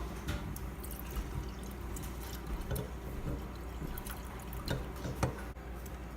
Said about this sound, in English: you want to dump your starter, the batch from the other, the kombucha from the other batch into here as well